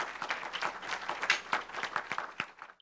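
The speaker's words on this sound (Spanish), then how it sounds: "has escuchado los aplausos" Audience at a lecture on human rights in Latin America applauding steadily, a dense patter of claps from a room of listeners that fades out toward the end.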